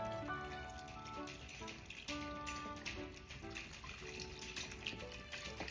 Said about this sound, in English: It is time to add the beef broth.